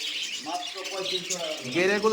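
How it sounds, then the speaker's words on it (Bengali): Birds at a farm, including cockatiels and grey parrots, chirp and call in short bursts close by while people talk over them. "নিচেও তো অনেক পাখি রয়েছে ককাটাল পাখি দেখতে পাচ্ছি"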